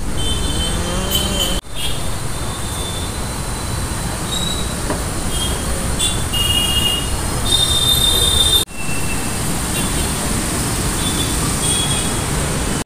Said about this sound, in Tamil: மெட்ரோவில் தான் போக போகிறோம், வாங்க போகலாம்.